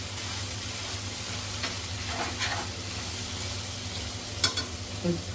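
Cluster beans (guar) stirred in a hot pan: a continuous close sizzle with scraping stir strokes and a few sharper clinks near the end.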